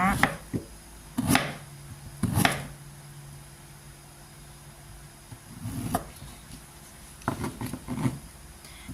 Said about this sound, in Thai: เราก็จะหั่นบางๆนิดนึงนะคะ ถ้าหั่นหนาไปนะคะก็จะสุกช้า